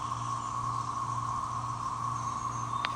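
Cicadas roar steadily in an Alabama backyard, a continuous dense buzzing drone that holds at an even level throughout, with an air conditioner humming nearby underneath.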